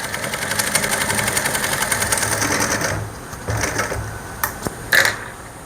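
Sewing machine runs steady stitches into a shirt seam, a fast continuous mechanical chatter that stops briefly near the middle, then resumes in a few short bursts.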